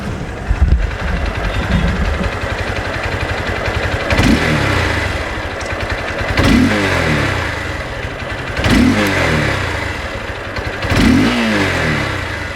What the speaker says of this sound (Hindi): तो ये था बाइक का एग्जॉस्ट नोट।